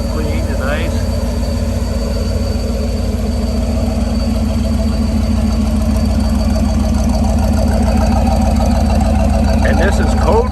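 A 1965 Chevrolet big-window pickup's V8 engine idles loudly and steadily up close, its low exhaust burble constant throughout.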